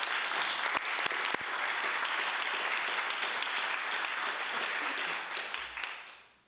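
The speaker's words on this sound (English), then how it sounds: "If we could have a round of applause from the House." Steady applause from members in a House of Assembly chamber, dense and even throughout, fading out over the final second.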